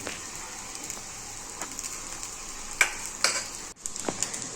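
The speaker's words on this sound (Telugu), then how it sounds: "ఇంకా రైస్ని వేసేసుకొని మొత్తాన్ని మిక్స్ చేసుకోవాలి" Cooked rice mixed into fried egg in a hot pan for an egg rice lunch box dish: a steady close sizzle with scattered sharp scraping clicks from stirring, no talking.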